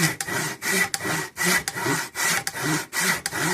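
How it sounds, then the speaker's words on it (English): A hand saw cuts through wood for a goblin hammer in steady back-and-forth strokes, about eight close, rasping passes with brief pauses between them, and no voices. "I'm much better cutting by hand straight than I am with a machine"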